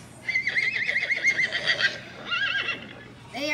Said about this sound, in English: Horses have hooves, and some horses can be four colors: brown, white, black, or gold.